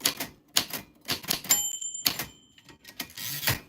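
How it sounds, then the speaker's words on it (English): A typewriter clacking in quick bursts of keystrokes, with a small bright bell ring partway through, close and clear and with no voices. "your name fell on the typewriter bell"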